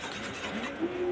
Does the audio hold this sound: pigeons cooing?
yes